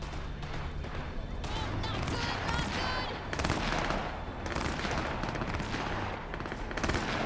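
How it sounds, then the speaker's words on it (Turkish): Heavy gunfight in the video game Cyberpunk 2077: rapid automatic fire and repeated shots, loud and continuous, with some voices underneath. "burada çatışma varmış gençler"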